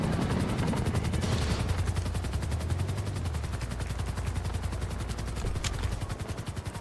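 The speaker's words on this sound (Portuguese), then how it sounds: "esse helicóptero da polícia aqui, velho" Police helicopter in a video game flying overhead, a steady loud rotor chop pulsing throughout with dense mechanical rumble, sharp bursts that sound like gunfire mixed in, no talking.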